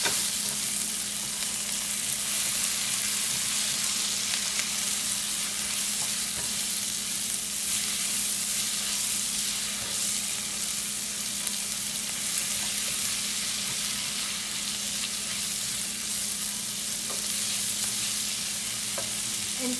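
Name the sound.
tomatoes added to frying onions in pan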